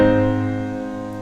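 A sustained chord rings out and slowly fades, with a second change from the V chord to the vi chord barely audible near the end; harmonic and resonant, no voices.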